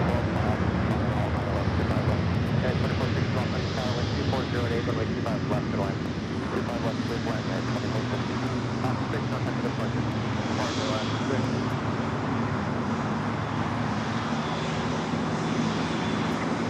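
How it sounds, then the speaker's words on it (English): An Alaska Airlines Boeing 737-800 takes off at LAX with a sustained engine roar that builds and lingers at a distance, with people talking over the noise throughout and light wind on the microphone. "That was Alaska Airlines Flight 6 taking off to Washington Reagan National"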